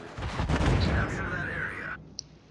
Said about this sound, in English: He's making those guns work for him.